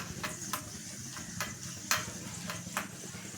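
Garlic sizzles in a pan for a garlic pepper kuzhambu, a steady close frying hiss with a few soft stirring scrapes and clicks.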